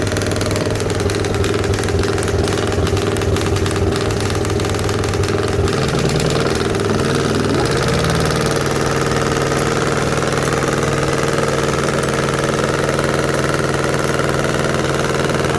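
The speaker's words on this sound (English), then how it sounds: "Starts a little motor, a little two-cylinder motor. That's what starts the big engine." A small two-cylinder starter motor for a larger engine runs steadily and loudly throughout, a rough, knocking idle with a constant low drone and faint vibration, no voices.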